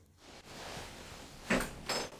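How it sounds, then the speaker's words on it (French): A drawer in an abandoned house slides open or shut, with two short scraping knocks close by after a quiet stretch of room noise. "Il y a même ce tiroir qui se trouve ici."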